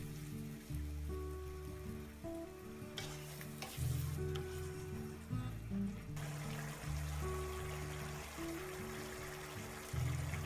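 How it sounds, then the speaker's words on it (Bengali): Onion paste and spices sautéing in a pan for a whole chicken shahi roast, giving a quiet continuous sizzle with occasional stirring, heard under a low steady background hum. "পেঁয়াজের পেস্ট, মশলাটা খুব ভালোভাবে কষাতে হবে।"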